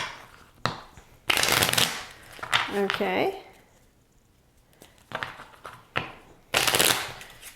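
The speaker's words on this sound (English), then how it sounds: "the ones that do not have that little starter symbol, we're going to shuffle" Board game cards for Firenze are riffle-shuffled repeatedly, several crisp rapid flurries of ruffling with short pauses between, and a person speaks briefly in the middle.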